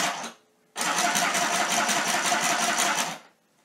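A portable handheld sewing machine runs on fabric with a fast, steady mechanical buzz, one short burst followed by a sustained run of about two and a half seconds, loud and close.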